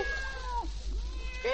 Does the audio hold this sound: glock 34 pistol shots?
no